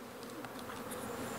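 Honeybees crowding a polystyrene hive while feeding on pollen substitute, giving a dense, steady buzzing hum close to the microphone with no break and no voices.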